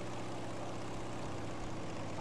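Airplane engine droning steadily inside Battlefield 5, a constant loud, dense roar of propeller aircraft noise filling the whole stretch with no talk over it.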